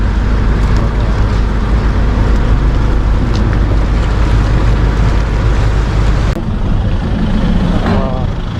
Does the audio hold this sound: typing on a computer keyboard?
no